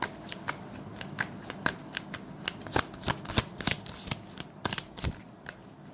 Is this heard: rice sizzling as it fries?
no